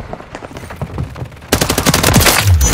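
Gunfire in a video game shooter: scattered shots and distant bursts at first, then dense, loud, sustained machine-gun fire that dominates the second half.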